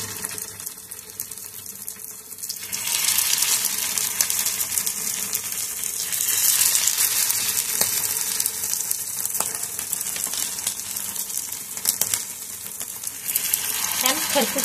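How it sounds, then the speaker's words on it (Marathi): Mumbai-style potato patties sizzle in hot oil in a pan, a steady bright crackling hiss that swells once they go in and carries on with small pops and stirring sounds. "तेल चेक करूया आपण गरम जरा कसं झालेलं आहे. आता आपण पॅटीस टाकूया."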